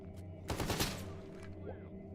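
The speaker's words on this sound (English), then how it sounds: "Or is that freedom shooting at me?" Gunfire in Stalker GAMMA, a dense burst of several rapid shots from a distance over a steady hum of game ambience, rising and then fading within about half a second.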